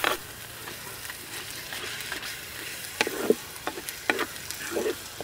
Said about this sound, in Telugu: ఒక్క 2 నిమిషాలు అయ్యాక పాలాకు పేస్ట్ మొత్తాన్ని వేసుకుందాం. ఇది 1 నిమిషం పాటు బాగా కలుపుకుంటూనే ఉండాలండి